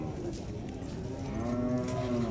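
Cattle at a livestock fair in Dois Riachos, Alagoas, moo in a low, drawn-out call that fills the short clip, close and steady, with no talk over it.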